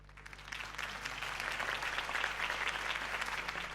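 A crowd applauds steadily in a Batman video game, the clapping swelling after a quiet start and holding at a moderate level over a low constant hum.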